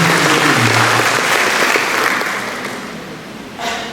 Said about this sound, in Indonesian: Tepuk tangan dulu buat anak-anak milenial.